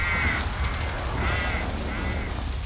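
Crows caw in an anime scene, three or four harsh, repeated calls spaced across the moment, fairly loud and clear over a light background hiss, with no talking.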